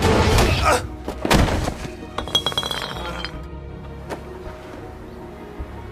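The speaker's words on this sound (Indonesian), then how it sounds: "mengambil botol kaca berniat untuk memukul kepalanya" A glass bottle clanks and smashes in a school fight scene from the film Weak Hero, with heavy thuds and a bright burst of shattering glass followed by scattered tinkling shards and fainter clinks.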